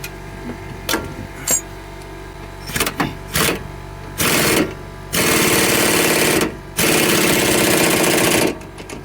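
A sway bar link bolt on a Scion tC being run down with a 19 mm socket and power tool, giving several short mechanical bursts followed by longer sustained whirring runs, close and loud with no talking.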